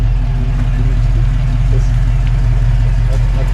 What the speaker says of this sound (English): You just hear the idle's nice.